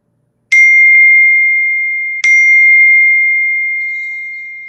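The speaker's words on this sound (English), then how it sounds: "somebody's phone is going off." A mobile phone rings in a room: two bright electronic tones, each starting sharply and holding a steady pitch before slowly fading, the second cutting in over the first.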